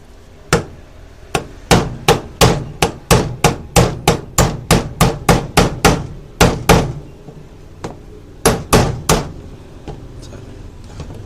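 Repeated hammer blows on a punch drive a pin out of a Star 9mm pistol, a quick run of about twenty sharp, loud metallic strikes, then a pause and a few more taps.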